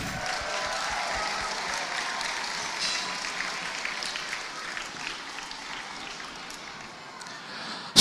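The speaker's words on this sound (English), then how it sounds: "Let's give these spinners a huge cheer." Audience at a robot combat event applauding and cheering spinner robots after a fight, a steady broad wash of clapping and crowd noise sustained throughout at moderate distance.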